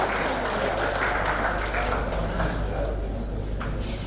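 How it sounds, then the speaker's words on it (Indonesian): Audience applause at a national gathering and MSME product exhibition greets an arriving department head. It is a steady, dense wash of clapping that holds for a few seconds under a constant room hum. "Kita berikan tepuk tangan yang meriah kepada Pak Kadis."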